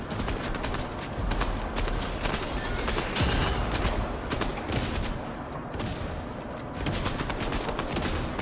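Rapid automatic gunfire from the video game Fortnite, during a Halloween duos match, crackles in dense bursts over a continuous rumble of game sound, loud and sustained with brief lulls.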